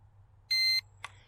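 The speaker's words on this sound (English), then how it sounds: "that beep will indicate that the drone is ready to be calibrated" A Snaptain SP500 foldable GPS camera drone gives one short, steady electronic beep to signal that compass calibration is ready, followed by a brief click, close and alone over a low background hum.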